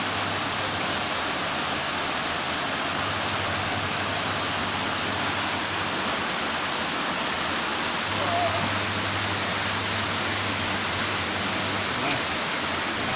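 Rain falls steadily during the rainy season, a dense even hiss of drops on surfaces outdoors, continuous and moderately loud, with a low hum underneath and no talk.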